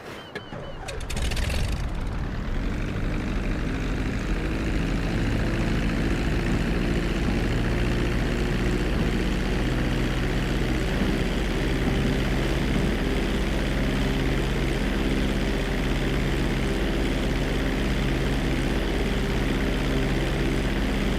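Propeller airplane engine in GTA 5 on a landing approach, a steady loud droning hum with layered harmonic tones that holds evenly for the whole stretch after a brief noisy burst at the start.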